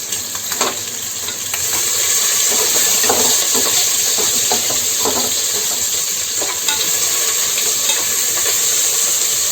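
Green chillies and curry leaves dropped into overheated oil for egg biryani, a loud, continuous sizzle and hiss with scraping stirs, rising after a brief quieter start.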